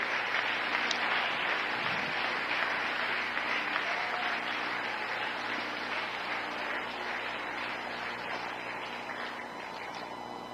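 A church congregation applauds in a sustained, dense wash of clapping that holds steady for about ten seconds and fades slightly, with no speech over it.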